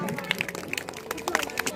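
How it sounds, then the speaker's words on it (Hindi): Scattered clapping from an audience at a school sweater distribution event, sharp irregular claps rising and falling over a short stretch, with voices murmuring underneath. "जोरदार तालियां सरपंच साहब के लिए"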